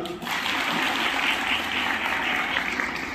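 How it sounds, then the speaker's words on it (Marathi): A crowd at a public speech gives loud, dense applause, a continuous wash of clapping that holds steady for a few seconds with no voices over it. "एकदा जोरदार टाळ्या वाजवा."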